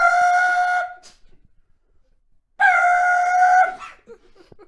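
A woman vocally imitates a small handheld air horn blown from a porch: two loud, sustained blaring honks about a second long each, separated by a pause, with faint murmuring afterward.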